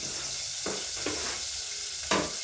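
Chopped onion frying in a small amount of oil in a clean pot, giving a steady loud sizzle with a few sharper stirring scrapes on top and no voices.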